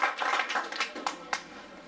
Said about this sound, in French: Donc, on applaudit.